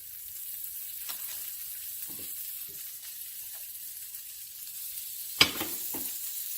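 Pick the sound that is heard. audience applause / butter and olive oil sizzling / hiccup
butter and olive oil sizzling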